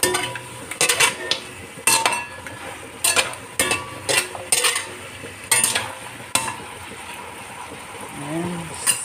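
A spoon scrapes and clatters against a pan while beef ribs and onions are stirred after cornstarch is added, repeated sharp clinks at an irregular rhythm over a soft, continuous sizzle.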